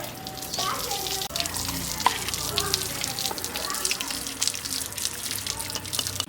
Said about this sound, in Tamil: அரிசியில் வந்து தண்ணி இல்லாமல் நல்லா வடி அடிக்கிறேன்